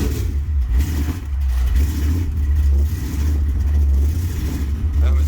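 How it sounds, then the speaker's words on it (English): A cold-started 1973 Plymouth Satellite six-pack engine, a 451 stroker, runs with a loud, steady, uneven rumble, close by, with voices faintly under it. "here's a cold start"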